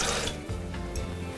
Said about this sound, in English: half a cup of coconut water